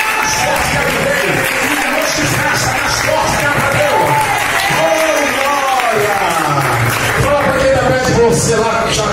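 Church congregation applauding during a sermon, a dense, continuous wash of clapping and crowd noise with voices and shouts mixed in throughout, loud and full.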